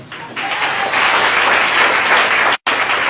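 A church congregation bursts into loud, sustained applause that swells and holds steady, with a brief sharp drop in the middle before the clapping resumes.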